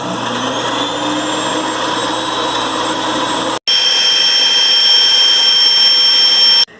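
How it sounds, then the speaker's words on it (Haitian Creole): An electric blender mixing cake batter with eggs whirs loudly with a steady high-pitched motor whine, briefly stopping and restarting at a higher, sharper pitch before cutting off. "Je vais quitter le blender toujours pour 10 minutes."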